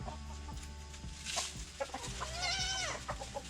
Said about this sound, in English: I have to appease the chickens, so they'll leave me alone while I